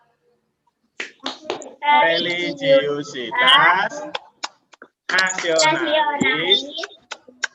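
Indonesian classroom clapping chant, with a group of children and a teacher speaking the words in unison, punctuated by sharp, rhythmic hand claps in two bursts separated by a short pause.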